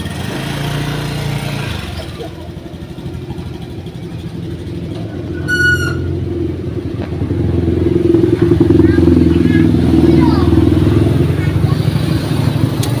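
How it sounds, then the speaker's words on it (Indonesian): A motorcycle engine drones through the scene and grows louder toward the end as it nears and passes, with people talking over the noise. "Soalnya ada motor."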